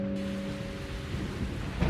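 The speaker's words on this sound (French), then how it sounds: "Malgré le bruit de l'orage qui emplissait le château" A thunderstorm with steady rain over a castle: a continuous hiss of rainfall over a low, rolling rumble of thunder, heard alone without any voices.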